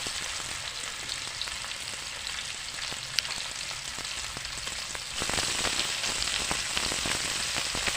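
Potatoes and tomatoes frying in a pan for a potato curry, a close, continuous crackling sizzle with scattered pops that grows slightly louder partway through, no speech.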